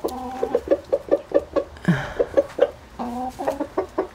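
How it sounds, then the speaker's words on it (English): About ten chickens cluck close by in a quick, uneven run of short calls, with a brief louder squawk partway through. "So we have about 10 chickens"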